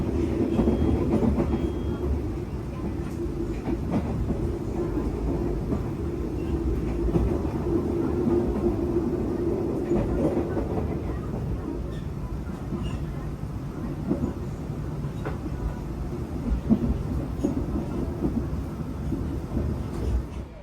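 A Bangunkarta economy-class train in Indonesia rumbles steadily along the rails, a continuous low roar with faint rhythmic clatter, heard from inside the carriage.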